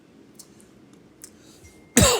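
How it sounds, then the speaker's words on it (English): A single loud cough bursts out at the end after near-silence, from a man with allergies during a financial markets commentary. "Still coughing."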